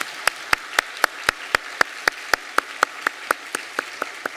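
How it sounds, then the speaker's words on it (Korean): A church congregation claps in welcome at a Sunday worship service, producing an evenly spaced series of single claps, about five per second, fairly faint and without voices. "우리 박수로 환영하도록 하겠습니다."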